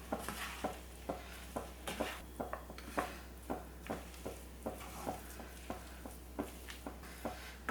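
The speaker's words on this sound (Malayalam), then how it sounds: "റൈസ് കുറേശ്ശെ ചേർത്തിട്ട് നന്നായിട്ട് മിക്സ് ചെയ്ത് കൊടുക്കാം" Rice is mixed into brinjal masala in a pan for vangi bath, with a spoon scraping and tapping in a steady rhythm over a faint sizzle, close up and fairly quiet.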